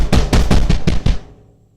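A heavily processed, trashy-sounding drum kit pounds out six punchy, booming hits in quick succession, then a short decaying tail rings out.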